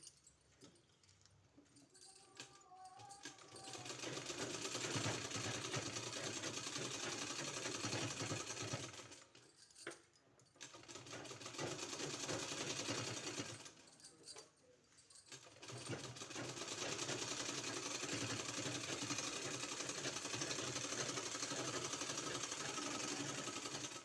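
A sewing machine stitches a sleeve, running in a steady rapid whir for several seconds, pausing briefly twice and then running on again, close and clear with no talking.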